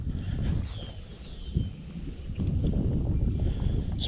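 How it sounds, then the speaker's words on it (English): Gusty wind buffets the microphone beside Rancho Seco lake on a morning fishing outing, a steady low rumbling roar that swells and eases, with a slight lull partway before strengthening again. "It's pretty windy today"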